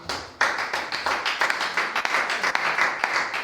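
A church congregation applauds during a worship service, a dense steady wash of many hands clapping close by, with rhythmic surges throughout and faint voices mixed in.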